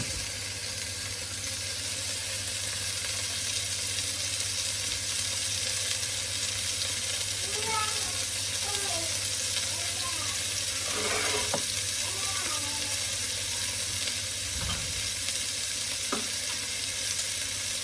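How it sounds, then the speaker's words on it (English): Steady, loud sizzling of scallops frying in a hot pan, a continuous hiss throughout with occasional clinks and scrapes of utensils. "so I'm going to put my scallops in. Should be able to hear them sizzle."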